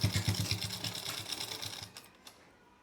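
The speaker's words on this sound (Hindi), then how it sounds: "यहाँ से सिलाई शुरू करेंगे और बिल्कुल आराम आराम से सिलाई लगा के" A sewing machine stitching suit fabric, running in a steady, fast, close mechanical chatter that slows and stops near the end.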